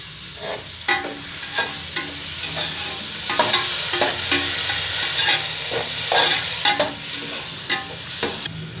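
Onions frying in ghee for plain pulao crackle and sizzle steadily while a spoon scrapes and stirs the pan in repeated strokes, close and clear with no speech.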